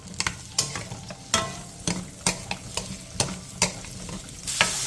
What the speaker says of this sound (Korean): 팬에 기름을 두른 뒤 양파와 당근, 비엔나 소세지, 다진 마늘 3분의 2스푼을 넣고 중불에서 볶아주세요